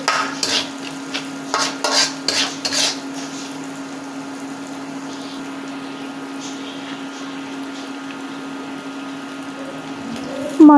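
Spices are stirred and fried in a pan for a pumpkin, pointed gourd and potato curry: a burst of rhythmic scraping strokes at first, then a soft, even sizzle over a constant low hum.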